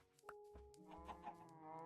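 Minecraft chickens cluck in a video game, a few faint clucks over steady background hum and tones, with no talking.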